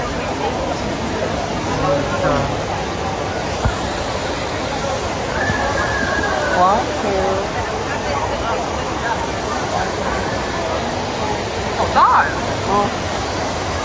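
Water rushes steadily from the Trevi Fountain in Rome, a constant broadband splash beneath a busy crowd with voices talking nearby.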